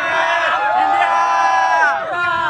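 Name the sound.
cricket fans cheering India's batting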